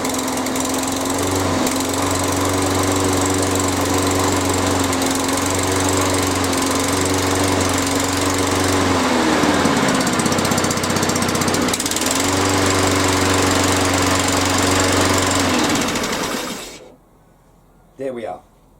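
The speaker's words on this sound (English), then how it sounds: "pull back on the OPC lever and start the lawnmower" A HYM480spr petrol lawn mower engine runs loudly and steadily with a droning hum, then cuts off abruptly near the end, followed by a brief small clatter.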